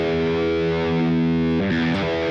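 An electric guitar plays through a Line 6 Helix with a Script Mod Phase effect and a distorted tone, a loud sustained chord that sweeps and swirls, then shifts to a new chord near the end, with no talking.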